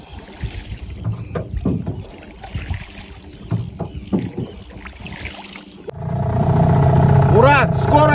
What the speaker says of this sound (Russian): Вот наш мотор, друзья.